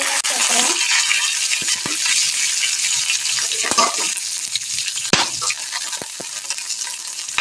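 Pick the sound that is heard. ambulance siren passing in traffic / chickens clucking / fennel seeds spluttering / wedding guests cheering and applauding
fennel seeds spluttering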